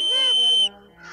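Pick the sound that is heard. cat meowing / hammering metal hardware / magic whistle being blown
magic whistle being blown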